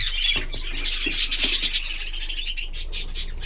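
Several small birds in a coop chirping and squawking close by in rapid, overlapping bursts, busy and lively with no talking.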